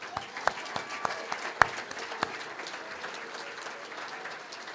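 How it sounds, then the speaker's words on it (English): An audience at a business excellence awards ceremony applauds the finalists, steady moderate clapping with a few sharp individual claps standing out near the start. "Now we can clap for them all."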